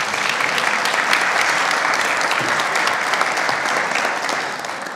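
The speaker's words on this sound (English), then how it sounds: "let's please give a round of applause" An audience at a youth entrepreneurship challenge breaks into loud, continuous applause, many hands clapping steadily for several seconds and tapering slightly at the end.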